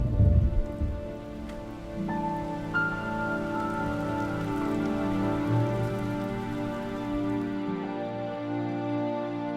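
Heavy rain falls steadily and close by, a dense continuous patter on a surface with no voices, and it holds at the same strength throughout.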